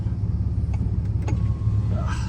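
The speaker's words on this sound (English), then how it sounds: "there's a Ram 2500 right there" Ram 2500 pickup truck towing a United Rentals trailer at a job site, a steady low engine rumble rolling past with a faint brief squeal near the end.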